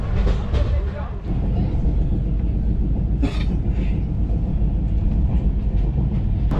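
A passenger train on the long journey from Kolkata to Kashmir, a loud steady rumble of wheels and carriage from inside, with brief rattles and a voice faintly heard under the noise.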